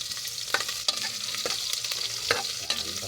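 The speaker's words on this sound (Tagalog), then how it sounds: "Maggisa tayo guys ng bawang." Garlic and onion sauté in a hot pan with a busy, crackling sizzle, punctuated by periodic scraping stirs of a utensil against the pan while cooking a vegetable dish.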